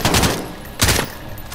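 Gunfire in the video game Call of Duty: Modern Warfare, two loud, close volleys of shots, the first near the start and the second just under a second later, with no talking.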